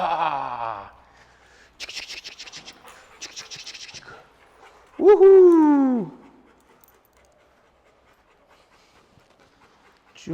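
A dog in guard training gives short bursts of rapid panting, then a loud, drawn-out whimpering whine that rises and falls, with quiet pauses between the sounds.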